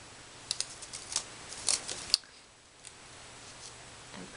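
A run of crisp scissor snips trims paper for a Stampin' Up! flower pot card: a few quick cuts, then a sharper final snip, followed by quiet handling noises.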